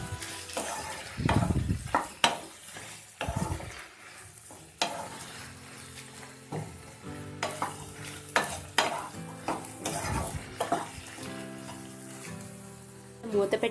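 Okra being stirred in a hot pan with turmeric and salt, a spoon scraping and tossing the pieces amid soft sizzling, with scattered clatter and occasional voice in the background.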